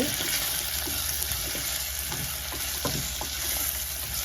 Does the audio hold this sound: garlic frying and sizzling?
yes